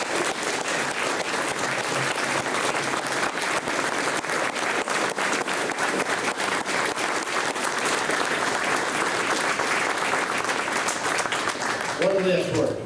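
Sustained applause from an audience at a veterans hall of fame induction, dense and steady throughout, with a few voices and cheers mixed in near the end.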